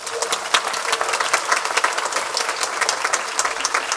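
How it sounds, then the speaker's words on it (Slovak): Festival audience applause fills the space with dense, steady clapping from a sizable crowd, close and fairly loud throughout, with no speech over it. "Prosím, potlesk."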